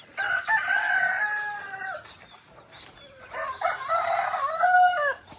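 Two long rooster crows ring out nearby, one after the other, each drawn out and loud, with a brief lull between them.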